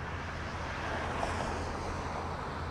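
Steady roar of passing road traffic beside a public park estate, a continuous distant rumble with a slight swell midway and no speech.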